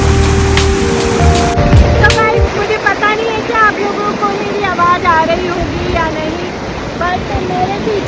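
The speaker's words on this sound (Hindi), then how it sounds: "मेरे पीछे ब्यास नदी बह रही है और बहुत तेज संगम है" The Beas river rushes hard at a fast confluence near Manali, a steady, loud, close roar of churning water that fills the whole stretch while a voice talks over it.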